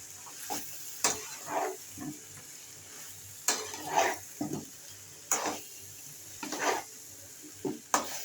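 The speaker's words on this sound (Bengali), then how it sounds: "একবার নেড়ে চেড়ে নিই।" Turul potatoes being stirred in a hot frying pan, a soft sizzle under intermittent scraping and shuffling strokes that come in short bursts.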